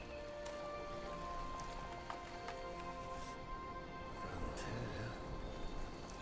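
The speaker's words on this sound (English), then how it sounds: "Phellon blesses us with her rains." Steady rain falls in the fantasy strategy game SpellForce 3, a constant dense patter with faint tonal ambience and a few soft knocks, no voices.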